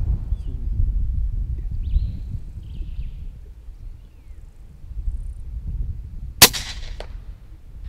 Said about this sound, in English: I hear the thud as that 22 caliber pellet passes straight through the head